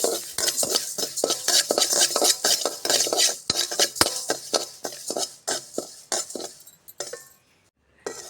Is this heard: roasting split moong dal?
yes